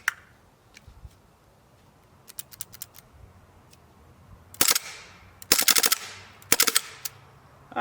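An old used airsoft gun test fired, giving a few sharp clicks early on, then three louder bursts of rapid snapping shots close by.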